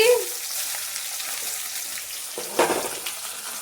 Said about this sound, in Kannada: ಒಗ್ಗರಣೆ ಹಾಕ್ತಾ ಇದೆ